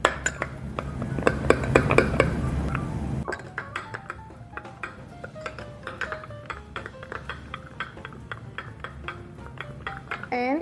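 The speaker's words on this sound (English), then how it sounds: "Garlic powder, some salt, and I'm gonna mix it first." Garlic powder and salt are tossed through broccoli in a bowl: a busy rattle of utensils for a few seconds, then lighter scattered clicks and taps, close by.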